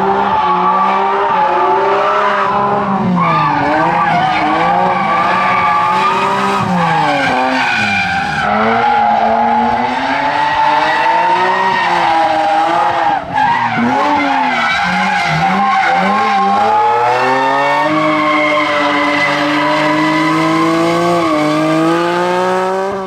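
A BMW M3 E46 with its naturally aspirated S54 straight-six and factory limited-slip differential drifts continuously, its tires squealing loudly and steadily while the engine note rises and falls throughout.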